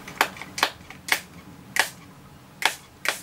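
Six quick, sharp spritzes from a spray bottle, each a short hissing puff, spaced irregularly and heard close up.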